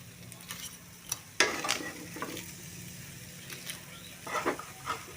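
Tamban fish frying in hot oil, a steady soft sizzle with stirring, a sharp spatter burst near the start and louder crackling flare-ups toward the end.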